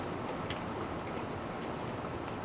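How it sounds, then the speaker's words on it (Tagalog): Heavy rain pouring steadily, a dense continuous hiss of falling water at even loudness from start to end, with no talking. "Ang lakas ng ulan."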